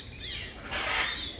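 A Malabar pied hornbill gives a short, raspy call lasting about a second, heard against steady background noise.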